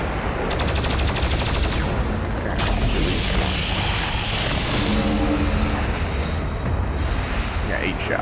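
Rapid, loud gunfire and mechanical clanks from the video game DOOM Eternal fill the stretch densely, with layered explosive bursts and voices talking over the action.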